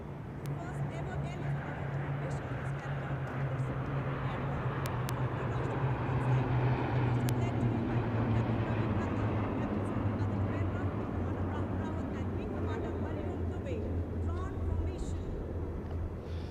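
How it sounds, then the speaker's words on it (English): A C-17 leading two C-130 military transport aircraft in formation at about 400 metres over the Rajpath water channel at the Republic Day Parade, a steady broad propeller-and-jet drone holding for the whole stretch under a commentator's voice. "इसमें आगे एक C-17 और पीछे 2 C-130 400 मीटर की ऊंचाई पर राजपथ के उत्तर में वाटर चैनल के ऊपर से निकल रहे हैं।"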